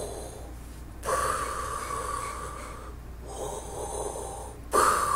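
A voice mimics Darth Vader's mechanical respirator breathing, heard as loud, close, rasping inhale and exhale cycles with brief pauses between them and no talk over them.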